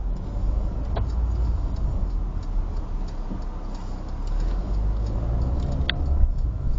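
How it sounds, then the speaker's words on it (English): Steady low road rumble and engine hum from inside a car on a short driving-test practice drive, with a couple of faint ticks and no talking. "So I'm just going to go for a short drive."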